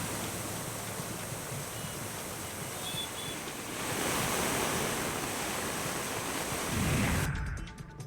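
Water of the flooding Savitri River rushes and roars steadily after heavy rain, a dense broadband wash that swells louder midway, with no voices.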